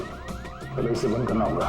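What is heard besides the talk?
shock alarm ringing in TV show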